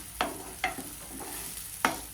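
Tomato sautéing in oil in a pan for an aloo palak sabzi, a soft low sizzle broken by three sharper spoon stirs and scrapes, close and quiet with no talk.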